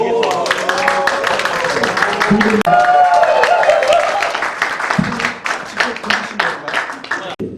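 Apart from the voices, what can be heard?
applause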